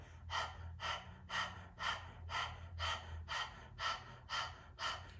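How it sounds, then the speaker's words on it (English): Rapid, rhythmic open-mouth panting during a breath of fire kundalini exercise, about ten sharp, even breaths in five seconds, close and fairly soft, with no talking. "Let's practice breath of fire first. Stick out your tongue, pant like a dog."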